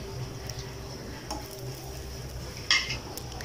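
Rice-flour chapori pitha frying in oil in a pan, a soft steady sizzle with a few light clinks and one sharper scrape of a utensil near the end.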